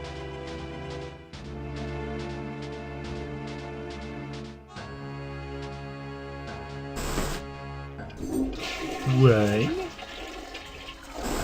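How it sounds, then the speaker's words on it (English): A toilet flushes in the video game I Have No Mouth, And I Must Scream, a loud gurgling rush of water that follows a looping musical soundtrack, with a brief spoken word. "we can go ahead and I guess flush the toilet"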